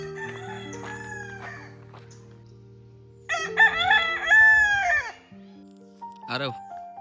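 A rooster in a Konkan village crows loudly and nearby in several drawn-out, wavering calls, with a quieter call first, a strong full crow in the middle and a short final burst.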